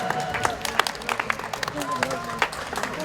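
Applause from an audience in Poland for the two second-place finishers in a competition group, with dense, moderately close clapping and scattered sharp claps running steadily over crowd murmur and a little voice.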